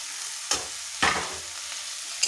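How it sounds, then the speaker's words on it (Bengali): Carrots and beans fry in a pan under a constant hissing sizzle, broken by two distinct scraping stir strokes about half a second apart, close and clear. "গাজরটা করে ভালো করে নাড়িয়ে নেব।"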